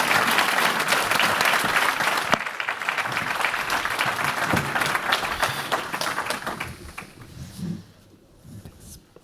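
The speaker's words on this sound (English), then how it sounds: "A big round of applause again for the panel." A conference audience applauds a sustainability and digitisation panel, loud sustained clapping that gradually thins into scattered individual claps and fades near the end.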